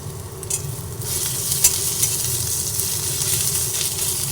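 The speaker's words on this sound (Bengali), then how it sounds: "সব নিয়ে ভালোভাবে ভেজে নিচ্ছি" Onion, garlic and ginger frying in a pan, a continuous close sizzle broken by scraping stirs and a few sharper clinks of the utensil against the pan.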